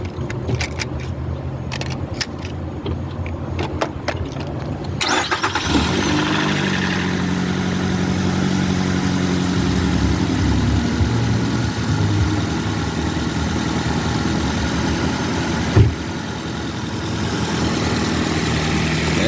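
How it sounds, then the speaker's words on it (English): A high-mileage car fitted with an oil catch can starts up about five seconds in after some light jangling, then settles into a steady idle that holds close and continuous, with a brief louder blip near the end. "So let's go ahead and start it and see what it sounds like"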